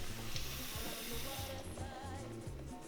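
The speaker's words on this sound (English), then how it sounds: "Then I'm going to add equal part water." Water pours into a cooking pot that already holds vinegar, making a continuous hissing splash with faint background music underneath.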